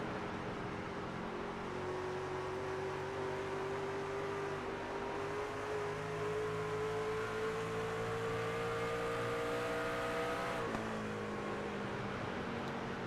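Racing truck engines in the iRacing video game, a steady multi-engine drone with rising pitch as the trucks accelerate together, loud and continuous with a brief shift near the end.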